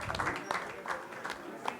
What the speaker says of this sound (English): Can we have a huge round of applause for sir, please?